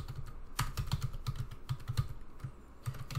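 Quick, irregular keystrokes clatter on a computer keyboard, soft close clicks in short bursts with brief pauses.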